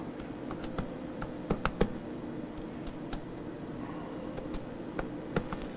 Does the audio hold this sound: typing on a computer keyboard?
yes